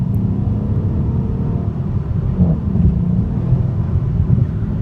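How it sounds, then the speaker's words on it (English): The V8 engine of a 2015 Mercedes-Benz E63 AMG S-Model 4Matic sedan under acceleration, a steady, dense low rumble heard from inside the cabin, continuous and fairly loud with no talking. "Love the sound of that V8 engine."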